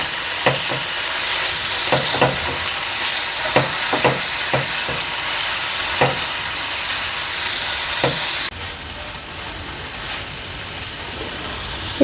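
Turmeric, chili and cumin powder stirred into hot oil in a pan while cooking a chicken-stuffed potato dum, giving a steady close sizzle with repeated sharp scrapes of a spatula, quieter in the final seconds.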